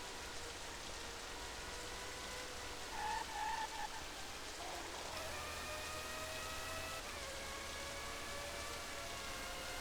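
Rain in the 1997 racing game Formula 1 Championship Edition at Spa-Francorchamps: a steady, even hiss of rainfall with faint engine whines threading through it, with no talking.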